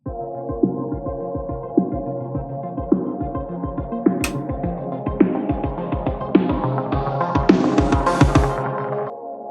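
Lush Fairlight synth chords swell with a long reverb and echoing delay, a steady pulsing rhythm underneath and bright shimmer building toward the end.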